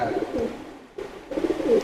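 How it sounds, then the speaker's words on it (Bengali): A male Teddy pigeon coos in soft, close repeated bursts, with a brief quiet gap in the middle before the cooing resumes. "খুবই ভালো বেলার লাইনের একটা নর কবুতর"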